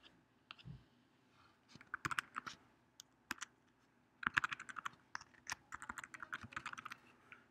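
Computer keyboard typing, faint and close, in short bursts of light clicking keystrokes with pauses, growing denser and more continuous toward the end.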